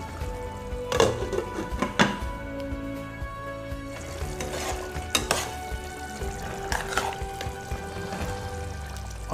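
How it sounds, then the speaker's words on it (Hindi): Mutton fries in ghee in a pot, a constant close sizzle with intermittent scraping and clattering as a spoon stirs the meat, no voices over it. "गोश्त को इतना भुनें कि गोश्त और घी जो है वो अलग हो जाए।"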